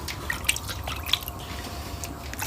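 Pork knuckle being rinsed in water, with soft drips and light splashes, small wet knocks and trickles close by and fairly quiet.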